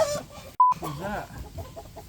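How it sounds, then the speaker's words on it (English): Chickens in a coop squawk and cluck in brief alarm, mixed with a short electronic beep and faint background talk. "The chickens all went nutso for a second."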